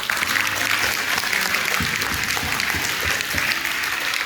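A school assembly audience at a final assembly claps loudly for two honoured guests, a close, dense and steady burst of applause throughout.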